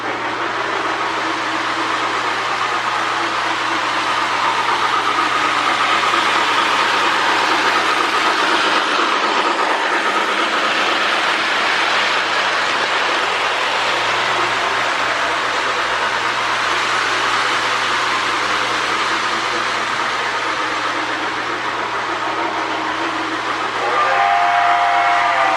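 A Lionel postwar 2037 model steam locomotive runs steadily for the whole stretch, a continuous broadband rumble and hiss of wheels and smoke unit, with a faint whistle-like tone near the end.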